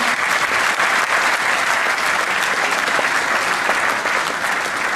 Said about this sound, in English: Can we please give Jahanara a big round of applause?